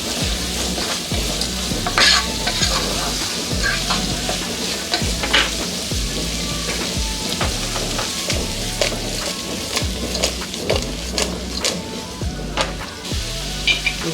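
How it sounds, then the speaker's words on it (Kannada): Capsicum frying in oil in a pan for capsicum palya: a continuous close sizzle with regular scraping stirs of a spoon against the pan throughout, no talk. "ಕ್ಯಾಪ್ಸಿಕಮ್ಮು ಕೂಡ ಅಷ್ಟೇ ಸಾಫ್ಟ್ ಆಗಬೇಕು, ಅಲ್ಲಿ ತನಕ ಇದನ್ನು ಎಣ್ಣೆನಲ್ಲೇ ಫ್ರೈ ಮಾಡ್ಕೋಬೇಕು."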